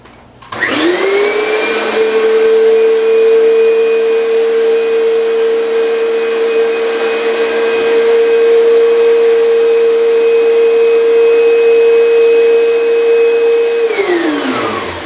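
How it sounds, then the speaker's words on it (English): A vacuum cleaner in blowing mode spins up and runs with a loud, steady whine and rushing air for a long stretch, then winds down. "I have it already hooked up to the blowing mode"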